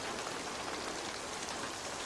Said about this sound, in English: Come on, it's pouring rain.